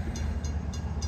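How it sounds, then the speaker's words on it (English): LIRR train at East Hampton station rumbles steadily nearby, with a constant low roar and faint regular high ticks repeating about every quarter second. "This first train is the LIRR train to Montauk."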